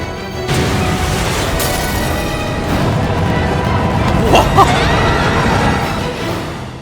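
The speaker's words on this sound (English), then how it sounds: "that was a big explosion" A big explosion in the video game Tales of Arise, a loud, sustained roaring boom that rumbles on for several seconds with a few crunching bursts near the end, no talk over it.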